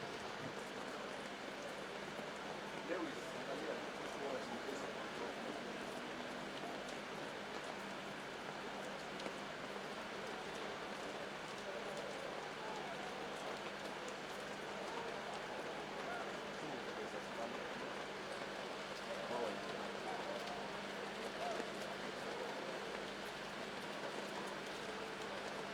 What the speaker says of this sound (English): under this downpour.